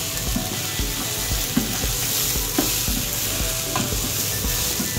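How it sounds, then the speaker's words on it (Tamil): Onion, tomato and green chili being stirred and lightly sautéed in a pan for puffed rice upma, with steady sizzling and repeated clacks of the spoon scraping the pan, close and alone without talk. "அந்த வெங்காயம், தக்காளி, பச்சை மிளகாய், அந்த இஞ்சி பூண்டு ஃப்ளேவர் மொத்தமும் அந்த பொரியில் இறங்குறதுக்கு லைட்டாக வதக்கிக்கலாம்."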